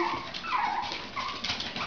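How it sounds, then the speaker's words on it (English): Yorkshire Terrier puppies whimper and whine in short, high-pitched cries, several voices close together, with no one talking. "You hear the puppies?"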